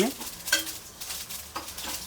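Sesame seeds roasting in a pan crackle softly while a utensil scrapes and stirs in repeated strokes, close by and fairly quiet.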